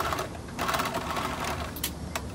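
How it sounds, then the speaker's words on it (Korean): A sewing machine rapidly stitches a sleeve to the body of a shirt-collar dress, a close, steady mechanical whirr of needle strokes with a brief pause and short bursts near the end. "소매와 몸판의 박음질이 끝나고 나면"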